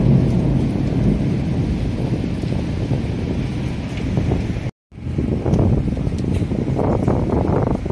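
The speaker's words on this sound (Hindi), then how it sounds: "तो यहाँ पे देखिए कितना साउंड हो रहा है हवा का" A strong thunderstorm wind roars continuously and loudly at Gariahat, broken by a brief moment of silence before the heavy rushing resumes.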